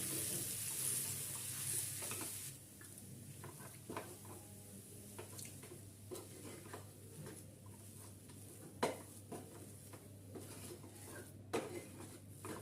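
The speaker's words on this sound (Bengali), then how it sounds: "আলু মাখাটা দিয়ে ভালো করে পেঁয়াজ আদা রসুনের সাথে মিশিয়ে নেব" Mashed potato is stirred into fried onion, ginger and garlic in a pan for egg devil filling, a faint low sizzle with scattered scraping and clinking spatula strokes against the pan, quiet and close, without speech.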